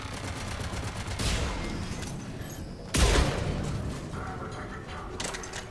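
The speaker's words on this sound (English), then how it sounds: "it's dueling turrets" Automated turrets trade rapid gunfire in the shooter game Mass Effect 3, bursts of shots and mechanical clatter with a heavy blast near the middle, no talk over it.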